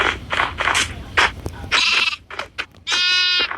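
Sheep in a video game bleat several times, short wavering calls with a long, loud, steady bleat near the end, close and clear with no talk.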